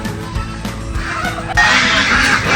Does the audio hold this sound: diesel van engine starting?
no